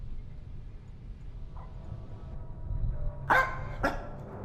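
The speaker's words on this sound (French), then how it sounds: "Ok, le chien est là." A dog barks in a dark night-vision horror game, two sharp barks near the end following a faint earlier yelp, over a low rumbling ambient drone.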